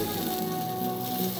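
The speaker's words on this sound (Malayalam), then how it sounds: "നമ്മൾ ഇങ്ങനെ പാനിലേക്ക് നമ്മുടെ ഈ ചിക്കൻ എല്ലാം എടുത്ത് വെച്ച് നല്ല ഫ്ലെയിമിലാണ്, ഹൈ ഫ്ലെയിമിലാണ് എടുത്തിരിക്കുന്നത്" Chicken pieces sizzle in an oiled pan over a high flame, giving a steady, close, hissing crackle with no pauses.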